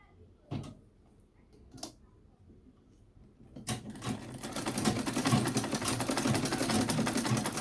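Sewing machine stitching ankara fabric, starting after a few soft thuds and handling knocks, then running steadily with a fast whirring hum for the last few seconds, moderately loud and close.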